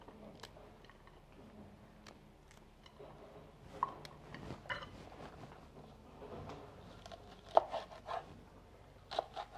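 A knife trims the stems off chili peppers in a home kitchen while a ranch-style dish is prepared. Soft, scattered clicks and light snaps sound close but faint over a quiet background, with no talking.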